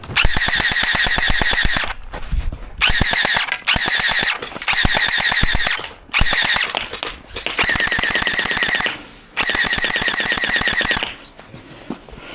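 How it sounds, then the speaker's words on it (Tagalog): A toy gel bullet gun fires in rapid automatic bursts, loud and close, with several sustained strings of shots separated by short pauses and a shrill whine running through each burst. "ito ay gel bullet. This is a toy gun."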